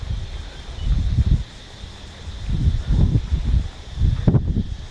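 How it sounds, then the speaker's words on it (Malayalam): Gusts of sea wind buffet the microphone in low rumbling bursts that come and go over several seconds, with no voices. "ഇവിടുന്ന് നല്ല കാറ്റുമുണ്ട്, ഇവിടെ നിൽക്കാൻ നല്ല സുഖമുണ്ട്."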